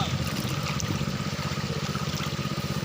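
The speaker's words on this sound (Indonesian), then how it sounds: "Mesin pompa air itu" A small 6.5 HP water pump engine running at a gold panning site, a steady rapid low chugging drone with fast even pulses, mixed with the wash of splashing water.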